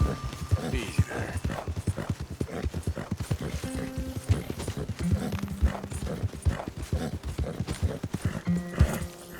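Horse hooves clip-clop steadily in Red Dead Redemption 2, a rhythmic trotting beat with occasional whinnies and snorts while a voice talks over the ride.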